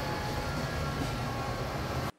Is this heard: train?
yes